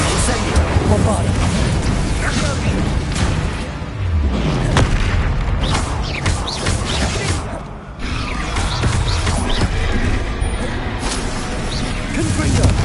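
Bombarda and Confringo spell explosions in Hogwarts Legacy boom and crash one after another in a dense, loud combat din, with a voice calling out over the blasts.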